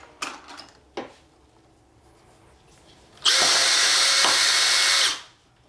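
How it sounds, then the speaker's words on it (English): A Henderson Precision Gen II power case trimmer chamfers, deburs and trims a brass rifle case to length, giving a single loud, steady whirring grind of about two seconds that starts abruptly and then winds down, after a few faint clicks. "it chamfers, deburs, and trims to length"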